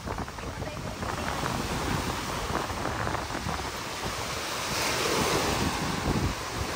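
Wind and waves wash along a lake shore at Laguna de Bay near a coastal area with damaged, abandoned houses. The steady rushing surf is heavy with wind buffeting the microphone, and it swells slightly toward the end.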